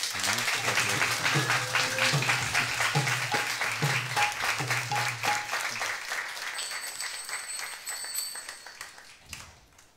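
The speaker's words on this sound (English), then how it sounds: "A big applause to them, please." Audience at a kirtan and satsang in a Hindu temple in Mauritius applauding loudly and densely, with a few sustained tones underneath, the clapping gradually fading out toward the end.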